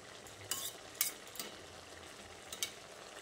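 A potato and pumpkin vegetarian curry gets stirred in a pan: faint background simmer punctuated by a handful of light spoon clinks and scrapes, fairly quiet and close.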